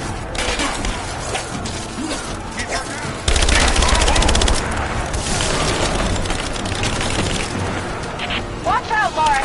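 Rapid machine-gun bursts and explosive booms ring out continuously in the Rise of the Tomb Raider video game, loud and dense from start to finish, with game voices heard through the barrage.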